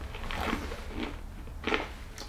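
Bites into crunchy homemade bacon, cashew and pecan brittle, three or four close, crisp cracking crunches spaced apart with chewing between, no talk.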